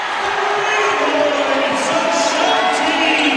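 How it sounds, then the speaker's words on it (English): A basketball arena crowd at a JMU women's game roars and cheers after a three-pointer, a steady, dense wash of noise that holds at full strength throughout. "So the crowd that had been silenced now comes alive"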